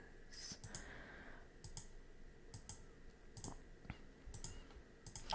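Light, irregular clicks of typing on a computer keyboard, in short bursts with pauses between them, close and soft against a quiet background.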